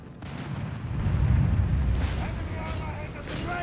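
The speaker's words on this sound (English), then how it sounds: "Panzers there meanwhile getting mauled by the artillery fire, already low on health here" Artillery fire pounding Panzers in the Company of Heroes 3 strategy game, a cluster of heavy rumbling booms and blasts that peaks early and then fades under lighter battle noise.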